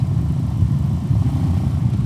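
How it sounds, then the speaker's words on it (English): A Royal Enfield 350cc cruiser motorcycle's engine and exhaust give a steady, deep, throbbing rumble close by. It holds an even idle-like pulse throughout, with no voices. "what Royal Enfield gets out of this small 350cc engine is good sound"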